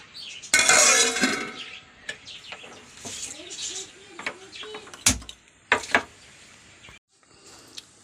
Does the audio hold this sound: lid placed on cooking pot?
yes